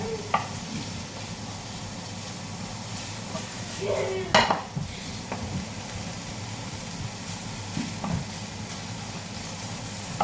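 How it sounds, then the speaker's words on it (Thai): Bacon frying in a dry pan makes a continuous low sizzle, with a sharp scrape or clatter of a utensil partway through and a few lighter knocks, heard close with no speech. "เวลาเรา ผัดเบคอนเดี๋ยวน้ำมันจากเบคอนมันก็จะออกมา"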